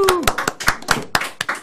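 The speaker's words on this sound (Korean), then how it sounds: "자, 이재명 TV 화이팅 하면서 박수와 함께 힘차게." A group claps hands together in energetic, uneven bursts at the start of a live broadcast, about a dozen sharp claps over under two seconds, with a short cheer at the very start.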